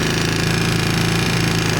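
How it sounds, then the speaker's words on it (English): A GY6 big bore scooter engine runs steadily close by, with a rapid rhythmic exhaust-pulse knock throughout the short burst. "That might be the knock I'm hearing, is just a bit of an exhaust pulse."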